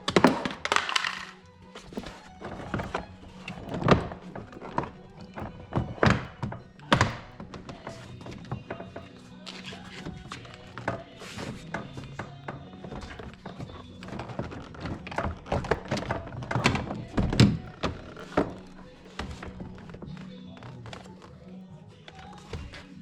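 Plastic trim clips being popped off a 2015 Ram 2500 door panel: a busy run of sharp thunks, taps and cracks at irregular intervals over about twenty seconds, close and fairly loud.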